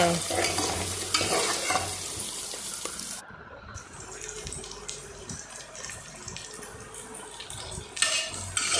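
Onion, curry leaves and green chillies sauté in hot oil in a pan for arisiyam paruppu, a steady broadband sizzle with scraping stirs, a brief drop around the middle and a louder clatter near the end; no talk.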